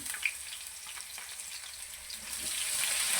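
Garlic and green chillies frying in a pan of oil while cooking a petha pumpkin curry, a steady soft sizzle that swells slightly louder toward the end, with no talking.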